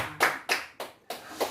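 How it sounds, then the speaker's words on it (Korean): Applause closes a live family worship broadcast: four separate bursts of clapping, each sharp at the start and then dying away, fairly close and with no talking. "박수로 마무리하겠습니다"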